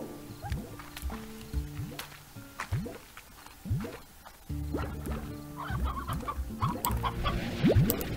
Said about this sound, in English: I'm definitely gonna gather up as many chickens as I possibly can.